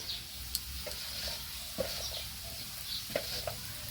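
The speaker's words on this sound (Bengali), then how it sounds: "এবার আমি মশলাটা ভালো করে কষে নেব" Ground spices with ginger paste and Kashmiri chili powder being stirred and fried in a pan for bhoger labra, a soft continuous sizzle broken by a few light spoon scrapes and taps, close and fairly quiet.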